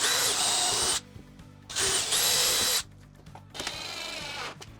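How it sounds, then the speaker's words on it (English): A power drill drives screws into a kitchen cabinet panel during installation, with two loud, close whirring bursts of about a second each followed by a softer, longer run of the motor. "Once the bottom's in, I'm gonna go ahead and drill all the rest of them up and then align the panel to that line."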